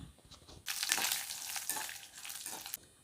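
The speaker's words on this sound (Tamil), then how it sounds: "கடாயில் கொஞ்சமாக நல்லெண்ணெய் விட்டு நல்லெண்ணெய் காயவும் கடுகு உளுந்து சேர்த்துக்கலாம்." Mustard seeds and urad dal fry and sizzle in hot sesame oil in a kadai, starting abruptly with a loud, crackling hiss that holds for about two seconds and then fades.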